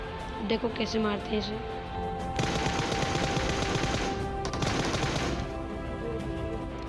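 Gunfire in the mobile battle-royale game PUBG Mobile, a dense burst of rapid shots running for a few seconds in the middle, heard under someone speaking Hindi over gameplay.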